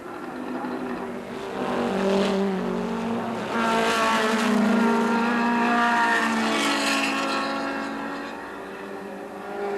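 Production race cars, a Porsche among them, roar past on a track in a 1980 SCCA D Production national championship race, engines swelling and fading as they pass with sustained high revving.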